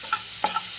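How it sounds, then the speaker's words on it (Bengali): Nigella seeds, green chilli, garlic and onion fry together in a pan, with a soft continuous sizzle and a couple of brief stirring scrapes. "সবগুলি আমি একবারে ভেজে নিচ্ছি"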